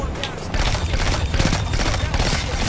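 Rapid bursts of pulse rifle fire from the Outbreak Perfected in the Destiny video game, loud and dense, with overlapping shots and impacts forming a continuous clattering barrage.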